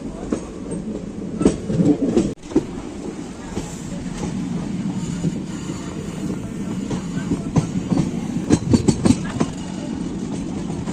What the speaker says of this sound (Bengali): ট্রেন এখন আমাদের গন্তব্য স্থানে যাচ্ছে খুব স্লো স্লো ট্রেন আছে